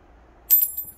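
A Korean 100 won coin falls 30 cm onto a force sensor, landing with one sharp, close metallic tap that rings on in a high, thin tone before fading, followed by a faint small rattle.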